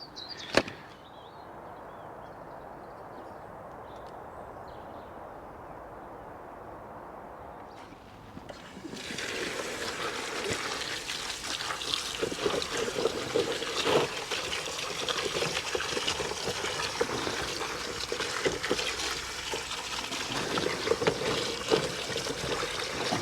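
Freshly harvested allotment potato tubers are washed in water, heard as a continuous close splashing and trickling wash after a quieter opening stretch, with one sharp knock near the start and no speech.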